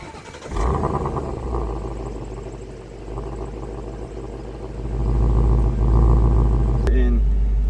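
A 2016 Ford Mustang GT's 5.0-liter V8 with stock exhaust fires up and settles into a deep, loud rumble, then revs higher toward the end, with a brief sharp click near the finish.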